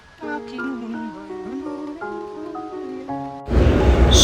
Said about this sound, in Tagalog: So, umulan na nga no